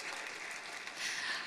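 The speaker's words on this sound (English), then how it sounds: "So yes, that deserves some applause." Applause from the audience at a 2018 alumni awards reception, a steady, dense patter of many hands clapping that holds evenly and swells slightly near the end.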